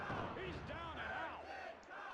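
Crowd chanting in the WWF Warzone wrestling video game, aimed at Goldust, a steady roaring mass of voices with rising and falling shouted tones throughout.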